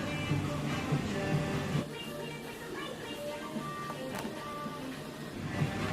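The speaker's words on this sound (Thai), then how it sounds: "อะทีนี้เราจะไปเย็บนะคะ" A sewing machine stitches fabric for a zipper-pull cover, giving a faint, steady mechanical whir with a slight rhythmic texture throughout.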